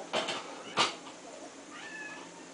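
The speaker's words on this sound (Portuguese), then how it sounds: "Aí, Fifi, a gata." A cat meowing nearby, two short calls in quick succession followed by a fainter drawn-out cry, set against quiet room background.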